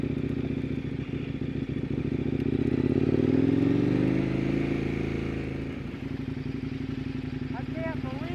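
Adventure dual-sport motorcycle pushing through mud and sand near Alamo Lake, engine droning and swelling under throttle with clattering and thumps from the rough ground, a rider's voice heard over it.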